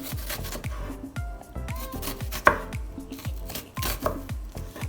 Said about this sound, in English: So for this, we're just gonna cut it sideways. And cut it lengthwise.